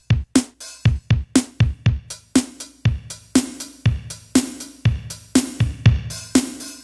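Casio SA-76 keyboard playing a quick rhythmic pattern of short plucked notes with steady repeating beats, reverb gradually increasing so each hit rings into a longer tail; close, no talking.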